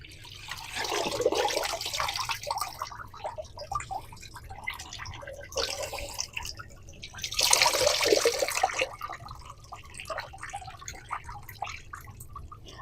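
Water sloshes and gurgles as a resin-wrapped knife billet is dunked and held under, with bubbling surges around two and eight seconds and quieter dripping and trickling between them.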